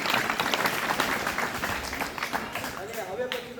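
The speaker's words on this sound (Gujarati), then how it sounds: "તાળીઓ" An audience of students and guests claps at a seminar held in a primary school, a sustained round of applause as a voice speaks over it, the clapping tapering toward the end.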